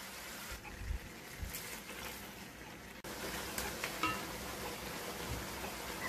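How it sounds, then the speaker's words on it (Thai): Spicy pickled bamboo shoots stir-fry in a pan, a soft steady sizzle with occasional scraping and clinks from the utensil, moderately quiet and close, with a brief pause partway through and no voices. "แล้วก็ผัดไปเรื่อยๆให้เข้ากันนะคะ"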